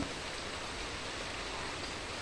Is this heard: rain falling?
yes